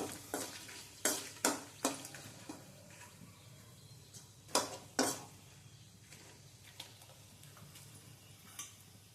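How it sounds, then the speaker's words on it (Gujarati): Pieces of star anise, cloves and dried red chilies sauté in hot oil for a Gujarati dal tempering, giving sharp scattered pops and crackles over a low sizzle, with a few louder bursts early on and quieter ticks later. "અને સરસથી સાતળી લેશું વઘારમાં"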